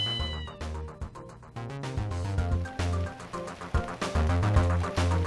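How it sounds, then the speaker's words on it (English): Black cat with a red scarf meowing in the video game Ghost Trick, repeated clear meows over steady game music, close and prominent without any talking. "Hey, a black cat with a red scarf."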